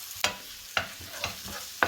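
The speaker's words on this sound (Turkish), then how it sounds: "Şöyle soğanlarımız iyice bir sararsınlar." Onions sizzle in a pan while being stirred, with soft steady frying under a few sharp scraping strokes of a utensil, fairly close.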